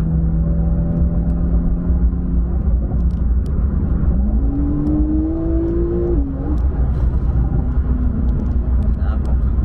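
A turbocharged Porsche 992 Carrera S with a stage 2 tune revs close and loud, its engine tone climbing in pitch, dropping briefly, then settling back over a constant low rumble.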